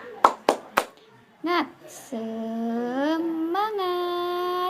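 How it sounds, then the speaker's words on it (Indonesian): Primary schoolchildren in a classroom perform a rhythmic clapping chant: three sharp, loud claps, then children's voices chanting in unison with long sung notes, clear and close. "Ya, tepuk semangat."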